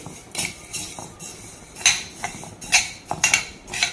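Urad dal is dry-roasted in a pan for chakli bhajani, heard as repeated close metallic scrapes and clinks of a spoon against the pan in an irregular rhythm, with quieter gaps between the strokes.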